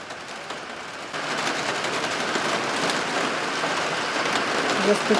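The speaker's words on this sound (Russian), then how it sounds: "Застучал дождик." Summer rain patters steadily outdoors, a broad even hiss that swells slightly after the first second and keeps going without pause, fairly near and unbroken by voices.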